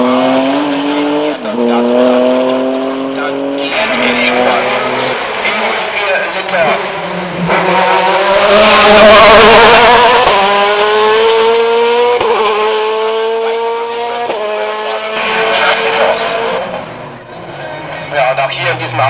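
A Porsche race car climbing a hillclimb course at Mickhausen, engine note rising and falling through gear changes with steady loud revving and some tire noise throughout.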